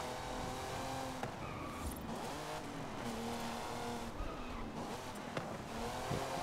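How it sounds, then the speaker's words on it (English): An old race car with a big engine drives in Forza Horizon 5, its engine droning steadily at moderate loudness while tires squeal briefly as the wheels spin, with no talking. "This is a pretty old race car that has a really big engine and feels amazing when you drive it. You can do a lot of wheel spin."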